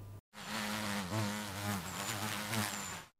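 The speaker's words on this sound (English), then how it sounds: "It's a bee." A bee buzzing close up, a steady droning hum with slight wavering pitch that runs for about three seconds on its own after a short gap.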